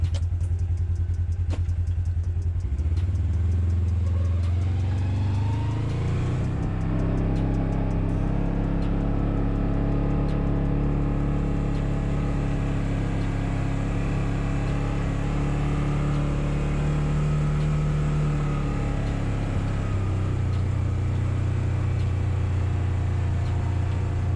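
A 2022 Polaris General Premium side-by-side runs nearby with a steady engine rumble, revving up around the middle and holding a droning tone before easing off toward the end, with no talking.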